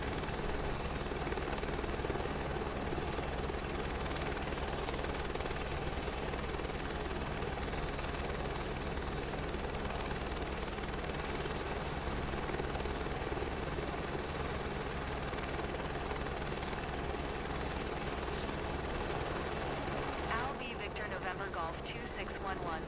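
A helicopter's steady rotor and engine drone in Microsoft Flight Simulator fills the whole stretch, constant and loud, with faint talk beneath.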